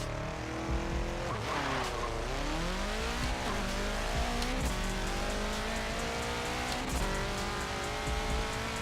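A tuned 700-plus horsepower all-wheel-drive VW Type 3 in Forza Motorsport 7 accelerating hard, engine revving up through repeated gear changes with rising and falling pitch, steady and continuous with light tire noise.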